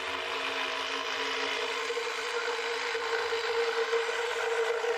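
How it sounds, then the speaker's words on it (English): An electric jigsaw cuts old pine wood, its steady, close buzzing whine running unbroken for the whole stretch with no voices. "you're going to use a jigsaw to cut it again"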